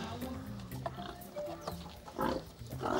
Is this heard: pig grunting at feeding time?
yes